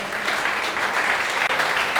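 Church congregation applauding during a worship service, a loud, steady, full burst of many hands clapping together at close range, with no speech over it.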